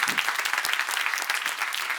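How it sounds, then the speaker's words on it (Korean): Members of a church congregation clap quickly in a brief, lively burst of applause, many hands close by and fairly loud, holding steady for the short span. "빨리 박수하시고"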